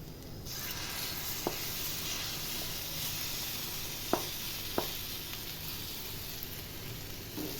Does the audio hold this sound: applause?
no